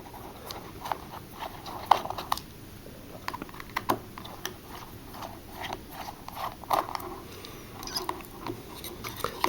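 Small screws are backed out of a Garmin Colorado 400c handheld GPS during a repair, giving faint, close, irregular clicks and ticks of a small screwdriver over a quiet room hiss.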